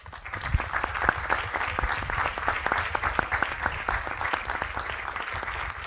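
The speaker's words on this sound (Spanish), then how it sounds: "Creo que se merecen un aplauso." Moderate applause from a conference audience, steady clapping with distinct individual claps standing out, heard somewhat distant and continuing evenly to the end.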